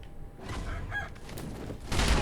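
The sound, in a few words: chicken clucking in video game Sekiro: Shadows Die Twice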